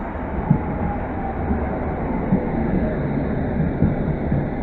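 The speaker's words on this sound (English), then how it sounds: "Coming now is going to be a London Underground Met Line service to Watford." A London Underground Metropolitan line train to Watford arrives at Pinner station with a steady, rumbling rail roar and a few soft clunks over the continuous noise.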